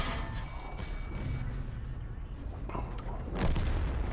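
Artillery from the tank game World of Tanks booms in the distance, a dull rumbling blast partway through over a steady low engine drone, with some background noise throughout.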